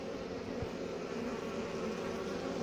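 Honeybees hum inside an open hive being cleaned out, a faint, steady buzzing drone that runs without a break.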